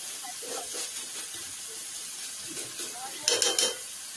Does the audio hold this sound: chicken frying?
yes